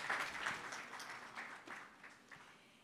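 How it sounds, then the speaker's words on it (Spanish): Audience applause at a Mexican technology-business panel event, a soft, fairly faint patter of clapping that fades gradually over a few seconds. "Un aplauso, por favor, también"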